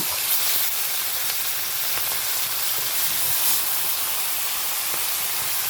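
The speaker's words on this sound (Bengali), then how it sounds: "মাছগুলো আমি এক এক করে দিয়ে ভালোভাবে ফ্রাই করে নিব।" Rohu fish frying in hot oil in a frying pan produces a loud, close, continuous sizzle and hiss with faint crackles throughout, and no voices.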